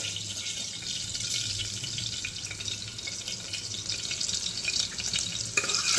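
Dal tempering sizzles steadily in hot oil in a home kitchen pot that the dal and rice were just taken out of, a constant loud frying hiss with faint stirring, and no talk.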